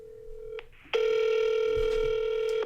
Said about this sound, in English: And here it is, it's calling my cell phone.